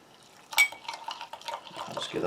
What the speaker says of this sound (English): we'll bring in a US MRE spoon